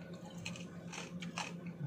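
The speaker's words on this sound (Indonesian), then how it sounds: "Kriuk-kriuk tiada henti." Crunchy fried chicken skin chewed at a noodle bar, close crisp crunching bites in an irregular rhythm over faint room hum, with no talk.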